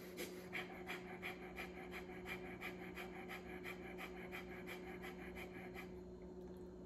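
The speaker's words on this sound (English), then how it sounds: "We're going to do one round of fire breathing, rapid breaths in and out of the nose, driven by the diaphragm." Fire breathing, with rapid forceful breaths in and out through the nose driven by the diaphragm, about fifteen quick even puffs in a steady rhythm, close and moderately quiet, with no talking.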